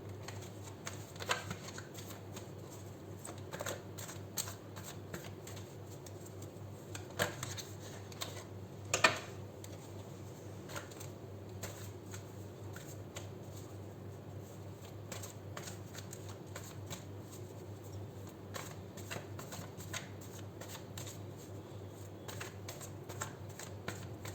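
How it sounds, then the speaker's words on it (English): A Rider-Waite tarot deck is shuffled by hand in a quiet room, giving soft, faint, repeated riffling and card-slapping ticks that run steadily throughout with no voices. "We'll start with 7 shuffles and then we'll take out 5 cards from the original Rider-Waite for you."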